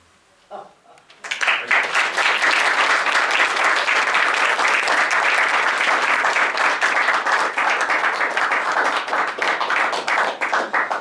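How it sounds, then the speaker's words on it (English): Sustained loud applause fills a room at a funeral service for a comedian, dense clapping from a sizable crowd rising quickly and holding steady after a short quiet start. "Still applauding in the other room there"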